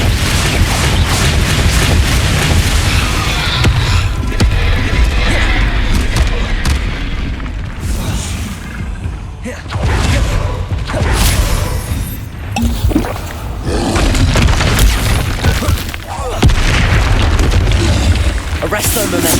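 Explosive Confringo spell blasts in Hogwarts Legacy combat boom again and again through a loud, dense wash of spell effects, with a voice heard over the din.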